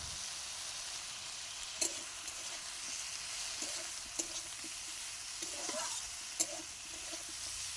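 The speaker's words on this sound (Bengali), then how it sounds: "দিয়ে ভালোভাবে আমি কষিয়ে নেব" Taro being stir-fried with chilli powder, salt and cumin in a pan, a continuous soft sizzle with occasional light scrapes and taps of the spatula, fairly quiet and unbroken by talk.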